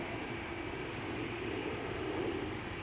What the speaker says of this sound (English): KLM flight 661 to Houston, Texas, A330 300.